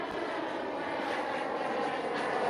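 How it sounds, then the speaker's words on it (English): A lit airplane flying overhead gives a soft, steady engine drone heard from a distance, unbroken and without talk for the short stretch. "That's the plane. That sounds like a real plane."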